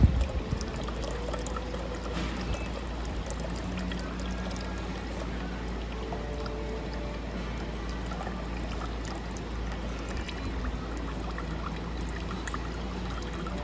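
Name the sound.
water filling tank until dispenser runs dry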